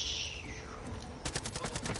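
Rapid gunfire in the video game Far Cry 5, a dense burst of repeated shots starting partway through, close and loud, following a stretch of game noise.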